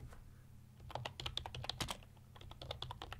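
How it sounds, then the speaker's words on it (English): Keys on a computer keyboard are typed in a quick, irregular run of light clicks, close and soft, entering text into software with no voices. "just clicking and typing in your text"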